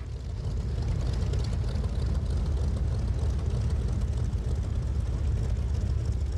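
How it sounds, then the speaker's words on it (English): A Grumman F7F Tigercat flies at an air show, its piston engines and propellers producing a steady, loud rumbling drone that holds constant throughout. "I'm here today flying the F7F Tigercat at the Wings of Eagles Air Show"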